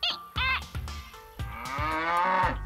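A cartoon cow lets out several drawn-out moos in a children's animated show, loud and close, the last call long and rising, with no talking over it.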